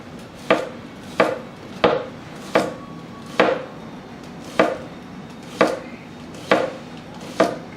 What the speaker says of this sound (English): next we're just going to do some slices here off of a shallot